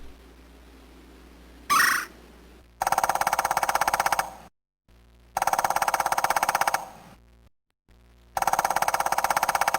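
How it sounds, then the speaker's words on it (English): A Gila woodpecker call as a Sega CD encyclopedia sound effect: a short squawk, then three loud, rapid rattling bursts of repeated harsh notes separated by brief silences, close and alone. "The sound of a gala woodpecker."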